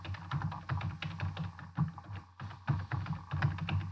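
Typing on a computer keyboard during a programming session, with steady rapid clacking keystrokes up close and one short pause in the middle.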